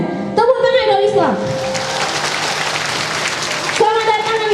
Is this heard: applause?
yes